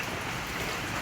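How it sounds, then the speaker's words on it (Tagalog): Steady rain falls in a dense, even hiss during a month of nonstop downpour flooding a goat shelter, close and continuous with no voices. "Isang buwan na walang tigil ang pag-ulan."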